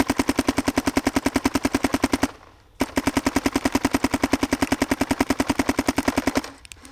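Dye paintball marker fitted with an MXR update kit and a CRBN DRV loader, firing long rapid strings of evenly spaced shots close up, a brief pause splitting two bursts before it stops.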